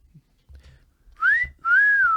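A podcast host imitates a loud whistle, giving two strong whistled notes close to the microphone, the second long and sustained, after a few faint soft sounds.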